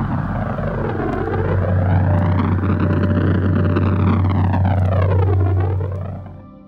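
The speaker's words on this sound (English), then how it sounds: "Liftoff." Rocket lifting off at launch, a loud continuous rumbling roar with a deep low drone and sweeping whooshes that swell and then fade at the end.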